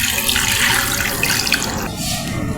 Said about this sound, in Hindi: तो फिर इसके अंदर ये ढेर सारा पानी डालेंगे।